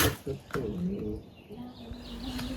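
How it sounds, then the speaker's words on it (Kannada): Small birds chirp faintly outdoors in Switzerland. Their short calls are scattered under a person talking nearby. "ಬರ್ಡ್ಸ್ ಚಿರ್ಪಿಂಗ್ ಏನು ಮಸ್ತ್ ಐತಲ್ಲ"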